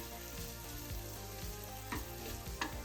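Sliced onions sizzle steadily in a hot pan, a dense continuous crackle with small spits and pops, heard alone at a moderate distance.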